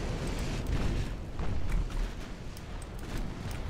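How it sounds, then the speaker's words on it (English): Warship main guns fire in the naval video game Ultimate Admiral Dreadnoughts, a soft, distant rumble of overlapping booms and bursts that swells and fades with no voices over it. "Main guns, come on."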